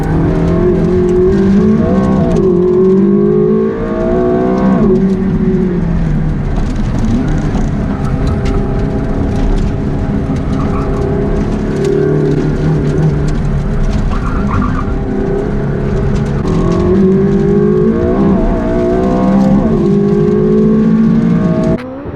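A McLaren 675LT accelerates hard on a lap, its engine rising in repeated loud revving sweeps through gear changes, close and dominant with no voices.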